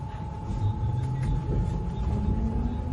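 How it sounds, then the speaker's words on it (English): Tram ride through Warsaw, with a steady low rumble of the car rolling on rails and a constant mechanical hum, continuous and fairly close throughout. "I took a tram in Warsaw for the first time."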